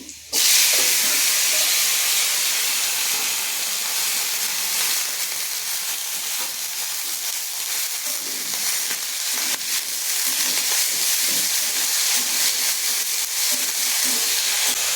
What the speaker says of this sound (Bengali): আমি এই যে ছোটো ছোটো আলু কেটে রেখেছি মোচার জন্য, আমি দিয়ে দিচ্ছি।